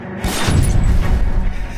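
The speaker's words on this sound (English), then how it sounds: "And there's your requisite red barrel explosion." A red barrel explodes in the video game L.A. Noire, a loud, close deep boom with a rumbling, crackling tail that quickly fills the mix.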